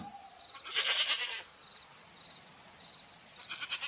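Goats bleat nervously in two quavering bursts, one near the start and another at the end, thin and moderately faint against a quiet background.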